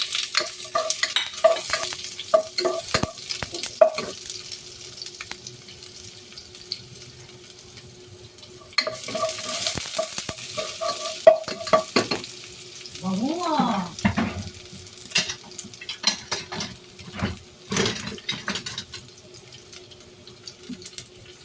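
Onion and golden-browned garlic sautéing in a pan for mung bean stew, with intermittent sizzling, spatula stirring and scraping, and bursts of running tap water between the frying sounds.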